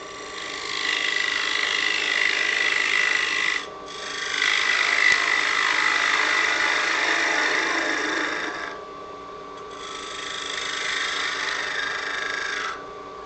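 A wood lathe spins a workpiece while a tool cuts a tenon, making a steady high-pitched scraping whir with a faint tonal hum underneath, broken by two brief pauses where the cut lifts off before resuming, close and with no talking.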